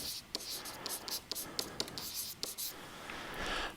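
Pen or marker writing on a board or paper during an algebra lesson, quiet scratchy strokes in short bursts with small taps between them, close and faint.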